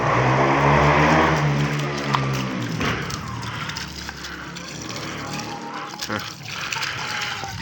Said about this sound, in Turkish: suyumuzu açalım. Çeşmeyi açak.